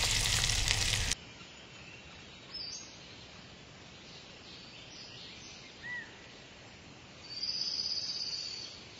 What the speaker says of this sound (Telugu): తాలింపు ఇట్లా వేసుకోవాలి.